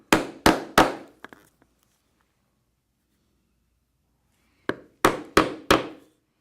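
Hammer blows punch rivet holes in leather for a backpack: three sharp, close strikes, a few faint taps, a pause of silence, then four more crisp strikes in even rhythm.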